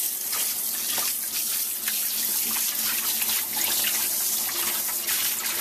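Tap water runs steadily over a hound dog during her first bath, rinsing soap from her neck and legs, a continuous close splashing rush with no talk.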